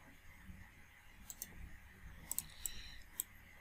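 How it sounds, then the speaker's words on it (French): Several sharp computer mouse clicks, scattered singly and in quick pairs, over quiet room tone during structural modelling software work, close and crisp. "je clique."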